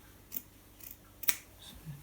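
Scissors snip through a knitted steek in a few quiet, separate cuts spread over two seconds, with no talking.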